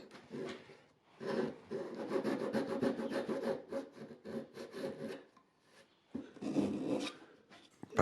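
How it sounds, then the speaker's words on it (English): Rough, rhythmic rasping strokes of a hand saw cutting wood to a line for a guitar's bird's beak joint, in steady back-and-forth bursts with short pauses between. "And then it's a matter of really sawing to the line."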